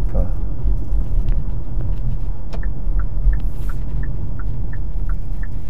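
Hyundai Ioniq 5 electric car rolling along a country road, a steady low tire and road rumble inside the cabin, with a repeating chime ticking over it.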